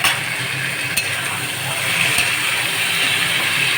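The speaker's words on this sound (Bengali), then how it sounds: "পেঁয়াজগুলো যেই ব্রাউনিশ হয়ে গেল, তারপরে চিকেনগুলো দিয়ে দিচ্ছি।" Chicken pieces land in a pan of browned onions fried in oil with bay leaf and cumin, giving a loud, dense, steady hiss of sizzling that holds throughout, with no speech.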